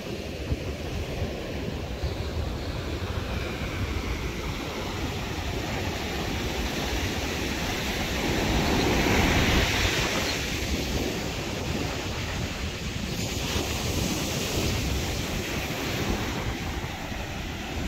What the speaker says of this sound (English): Wind is picking up a little bit now.